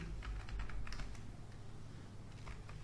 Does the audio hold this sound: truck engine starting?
no